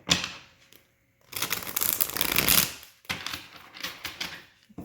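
Tarot cards riffle and flutter in two bursts, a longer rapid shuffle followed by a choppier one, close and crisp, with no talking.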